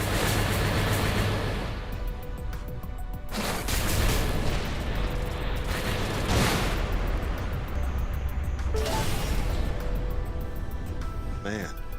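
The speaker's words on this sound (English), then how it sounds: "The explosions are absolutely gorgeous in this game." Heavy booming blasts and rumbling spaceship explosions in Everspace 2 fill the clip, dense and loud, with bursts recurring every few seconds under occasional talk.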